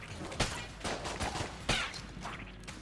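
Weapon fire in Enter the Gungeon, a dense stream of rapid shots with a few sharper, louder blasts standing out, steady and close over the game's background din.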